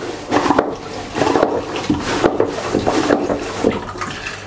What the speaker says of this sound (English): When it is switched this way, it will pump water in and out at the same time.